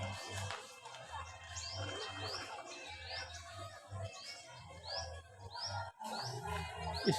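A white starling (jalak putih) at a deer park zoo in Sibreh, Aceh Besar, repeating short, rising chirps and whistles over a low background hum and soft ambient noise.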